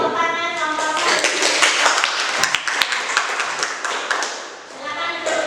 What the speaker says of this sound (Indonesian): Tepuk tangan nomor 1.